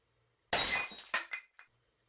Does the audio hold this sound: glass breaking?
yes